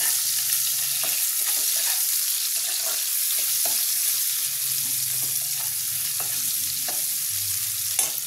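Chopped onions with a pinch of salt fry in hot oil in a home kitchen, a loud, continuous sizzle broken by periodic scrapes and taps of a stirring spoon.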